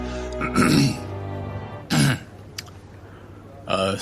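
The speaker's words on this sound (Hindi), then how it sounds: "सभी का ध्यान अपनी ओर आकर्षित करने के लिए जोर से खांसी की" Three loud throat-clearing coughs, each a rough, harsh burst spaced a second or more apart, close up with a faint hum between them.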